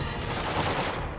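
Sniper gunfire in the Marvel's Spider-Man video game, a dense rapid crackle of shots over about a second, moderately loud with no talk.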